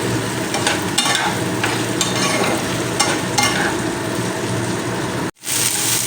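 Slit green chilies and long-cut tomato slices stir and fry in a pan, a steady dense sizzle with intermittent scraping strokes, close and continuous, with a brief dropout near the end.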